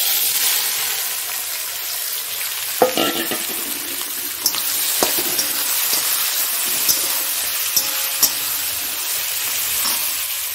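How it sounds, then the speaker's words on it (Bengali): Onions frying in a pan, a continuous bright sizzle with occasional sharp clicks and knocks of a utensil against the pan, fairly close and loud, no talking. "এবার এটার মধ্যে পেঁয়াজগুলো দিয়ে দিচ্ছি।"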